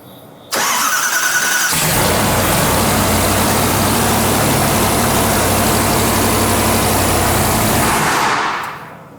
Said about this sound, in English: This will be the first time we crank it after a full engine rebuild